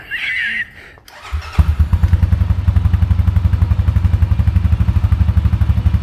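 A Honda 400EX ATV fitted with a slip-on exhaust fires up after a brief voice and a clunk, then settles into a loud, close, lumpy idle with a fast, even thumping pulse.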